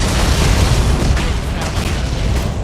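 Rumbling artillery blasts in the military strategy game Tom Clancy's EndWar, a dense, continuous low boom filling the whole stretch at steady loudness, with no clear gaps between impacts.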